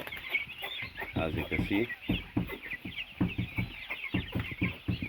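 Young chickens in their third week, about a hundred birds in a farm pen, cluck and chatter close by in rapid bursts, while someone briefly speaks over them.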